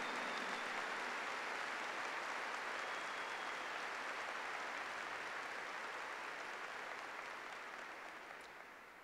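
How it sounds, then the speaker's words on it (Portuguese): A church congregation claps together in sustained, dense applause during a Catholic service for the Exaltation of the Holy Cross. The clapping fills the space evenly and stays steady before tapering off slightly at the end, with no voices over it. "Give the Lord a big clap."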